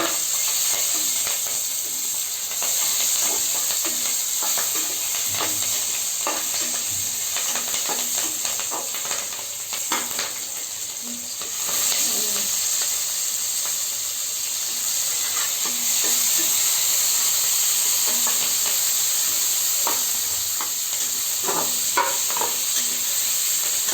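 Cashews and green chillies fry in hot oil in a pan with garam masala, giving a steady close sizzle and hiss broken by scattered crackles and occasional stirring scrapes throughout.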